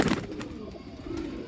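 Pigeons coo softly in a short, close burst of low, throaty calls, with no voices present.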